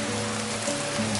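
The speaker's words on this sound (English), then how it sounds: "it started raining so hard just now" Heavy rain pours outside in a dense, steady hiss of drops hitting surfaces, continuous and fairly close, with no talking.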